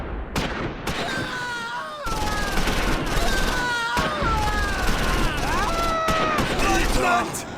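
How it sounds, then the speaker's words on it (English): BAR automatic rifle squad fire in the Close Combat 4 war game, Battle of the Bulge at Esch-sur-Sûre, with bursts cutting in over a steady battle din and other game sounds. "Second Platoon platoon's BAR squad now opens up on German infantry."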